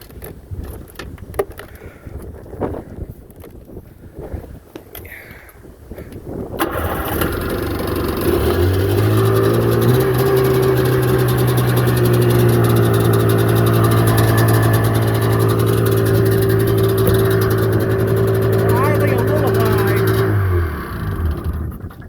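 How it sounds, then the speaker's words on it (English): An engine on a 95 XP 717 project machine cranks and catches after a quieter stretch, then settles into a steady, slightly high idle that runs loud and even for about twelve seconds before cutting off. "Idling a little high, I'll adjust that."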